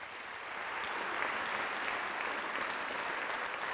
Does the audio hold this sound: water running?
no